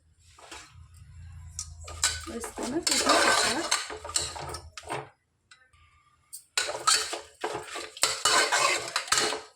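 Half a kilo of mutton stirs and fries in oil in a pan, with loud scraping, rattling spoon-on-metal clatter in bursts and a short pause midway, heard close over a faint sizzle.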